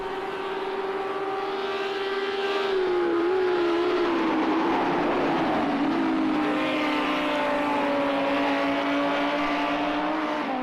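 Race car engines held at full throttle in a GT3 sim racing game, a loud steady whine with slowly shifting pitch that dips and climbs slightly as the cars run flat out through a corner, with no talk.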